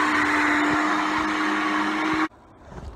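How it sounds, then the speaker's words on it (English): A blender whirs steadily through a spinach smoothie with apple and ginger, a loud continuous motor drone with a constant hum, then cuts off abruptly near the end, leaving quiet room noise. "everything is in the blender now, so let's blend"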